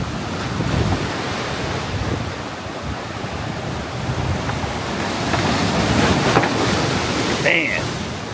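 Rough Atlantic surf in Atlantic City the day after a hurricane roars steadily with crashing waves and gusting wind buffeting the microphone, loud and close throughout.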